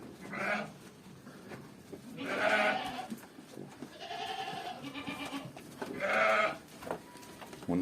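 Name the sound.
Awassi sheep and Cypriot mixed-breed goats bleating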